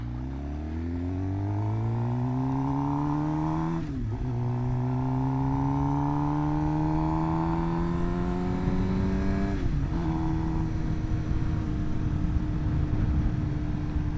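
Suzuki GSX-R 750 motorcycle riding on back roads, its engine whining up through the revs in long rising pulls, broken by two quick gear shifts, loud and close throughout.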